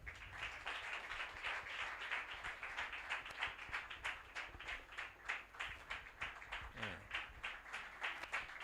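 Quiet, steady applause from a small audience at a book launch event, a dense run of claps throughout, faint and somewhat distant, with no clear talk over it.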